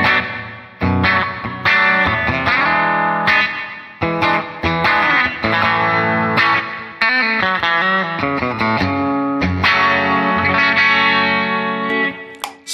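An Epiphone Prophecy SG electric guitar played through its bridge pickup with effects, loud and continuous, with strummed chords and picked notes carrying distortion, chorus and a touch of reverb; no voices.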